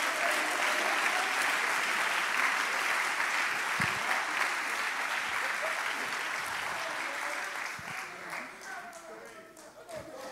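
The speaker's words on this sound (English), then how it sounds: "Somebody clap your hands in the house." A church congregation claps during a sermon, dense sustained applause that stays loud and even before thinning slightly near the end, with speech mixed in.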